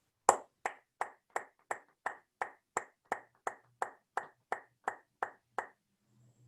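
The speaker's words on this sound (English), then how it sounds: "please, let's have a round of applause for Chief Eman" A single person claps for the fire chief at an Ansonia Board of Aldermen meeting, about fourteen sharp, evenly spaced claps ringing out alone in a quiet room before stopping.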